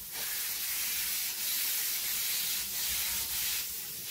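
Air spray gun spraying thinned polyurethane varnish, a continuous loud close hiss with slight pulsing swells as the trigger and spray pattern shift, no voices.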